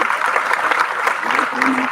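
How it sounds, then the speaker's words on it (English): An audience applauds dancers from Team Nartana after their performance, a dense, steady wash of clapping with a faint voice or cheer rising briefly near the end. "I request everyone to give a huge round of applause again"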